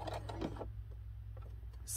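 A hand-crank sewing machine stitches a fabric-covered rope bowl, making a quick burst of close mechanical clatter that then settles into quieter, intermittent ticks.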